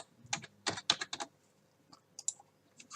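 Computer keyboard keys tapped while entering flavour names into a spreadsheet for homemade e-liquid, a few quick bursts of close, crisp clicks with short pauses between them, no voices.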